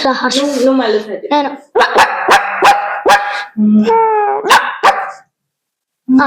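A voice mimics barking street dogs, a string of sharp yaps and yelps with short pauses between bursts, close and loud.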